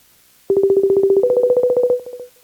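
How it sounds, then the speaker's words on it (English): A telephone call rings out through the handset as a rapid pulsed electronic tone, steady then stepping slightly higher, loud and close for about two seconds. "So far the phone's still ringing."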